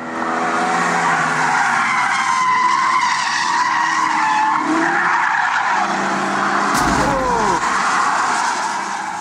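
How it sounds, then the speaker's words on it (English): A silver Audi estate skids on a racetrack, tyres squealing loudly and continuously for several seconds over a steady engine roar, with a sharp burst of noise near the end. "The clip shows the shocking moment when the driver of the silver Audi estate loses control."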